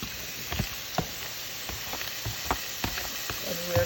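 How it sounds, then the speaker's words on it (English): Jamaican escovitch fish seasoning sautéing in a pan, giving a steady close sizzle with scattered sharp pops and crackles, with no voices. "we're going to saute that. Everything together"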